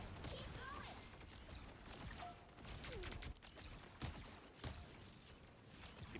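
Bursts of gunfire crackle through a busy team-based shooter match as ranked players fire on Loki clones, with sharp irregular shots and clatter over a constant game soundscape, while a commentator talks over the action.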